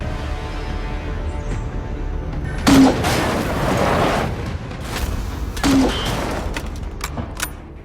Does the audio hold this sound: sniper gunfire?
yes